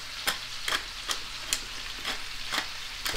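Chicken and vegetables sauté in a pan, sizzling steadily while a utensil scrapes and stirs in a regular rhythm, roughly every half second, close up with no talk.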